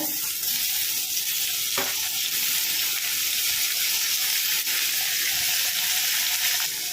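Tomatoes and onions fry in a pan for spring onion sambar, giving a continuous, fairly loud sizzle with a few faint stirring knocks, steady from start to finish and free of speech.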